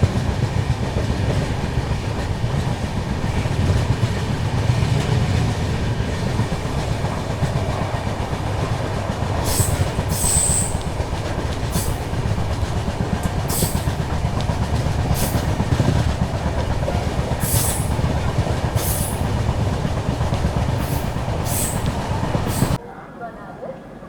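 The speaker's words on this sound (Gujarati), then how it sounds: "આપણી ટ્રેન આવી ગઈ છે કાનાલુસ રેલવે સ્ટેશન ઉપર" A passenger train rolls into Kanalus junction railway station in Saurashtra with a continuous close rumble and periodic clickety-clack of wheels over rail joints, before the sound cuts off abruptly near the end.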